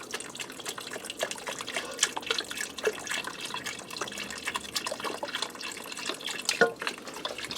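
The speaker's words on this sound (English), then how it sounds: "I'm just going to give it a stir while I'm adding in the beef broth." Beef broth pours from a 4-cup container into an Instant Pot on high saute, with a steady liquid splashing and trickling close by and soft clinks of stirring throughout.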